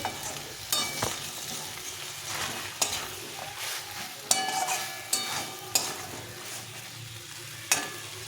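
A curry sautéing in a pan gives a continuous sizzle close by, broken by repeated scraping and stirring strokes with occasional sharper clinks against the metal.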